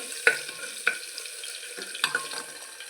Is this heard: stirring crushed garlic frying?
yes